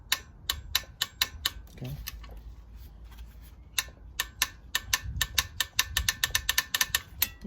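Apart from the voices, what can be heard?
tightening a 15mm bolt with a wrench on a Mazda Tribute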